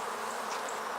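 Honeybees buzzing steadily during a hive inspection around in-hive sugar feeders, a soft continuous drone of many insects close by.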